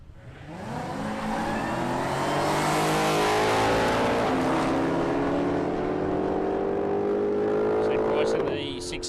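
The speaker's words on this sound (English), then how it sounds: "Monaro takes on Mustang." A Holden Monaro and a Ford Mustang drag race at Palmyra Raceway, their engines roaring loudly and steadily with pitch climbing through the run before cutting off near the end.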